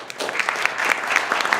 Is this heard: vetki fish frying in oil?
no